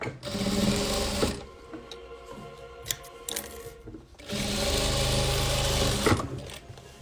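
A sewing machine stitches a velour patchwork quilt, running in two long loud steady bursts with a quieter pause between them, alone without talk.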